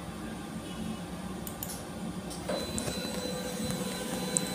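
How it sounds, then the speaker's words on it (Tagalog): A DTF printer whirs and hums steadily up close, with mechanical shifts and small clicks as its head cleaning cycle runs. "Ganito naman po ang tamang pag-head clean ng DTF printer."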